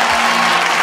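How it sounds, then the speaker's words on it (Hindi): Audience applause welcoming a singing contestant on a Bhojpuri talent show stage, a steady dense wash of clapping filling the whole brief moment without pause. "जोरदार ताली से स्वागत कर जाओ"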